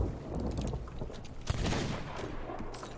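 Gunfire during a ship battle in the pirate game Sea of Thieves, a rapid cluster of sharp shots and booms, one standing out sharply midway, over a constant rumble of ship and sea.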